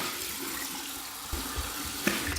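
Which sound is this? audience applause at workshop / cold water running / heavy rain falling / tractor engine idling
cold water running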